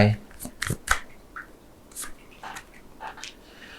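Oracle cards riffle and slap as a deck is shuffled and cards are drawn, a few quick papery bursts close by with softer taps between.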